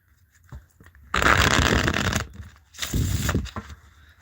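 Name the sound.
shuffling tarot cards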